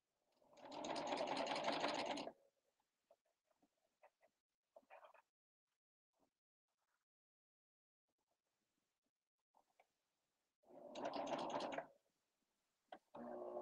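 A serger sews the side seam of flare pants in two short, loud bursts of whirring stitching separated by a long quiet stretch with small clicks and handling noises.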